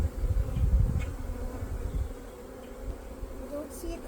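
Honey bees buzzing steadily around a hive while a nucleus colony is installed, with a smoker in use; a low, continuous drone sits close by and a faint voice is briefly present.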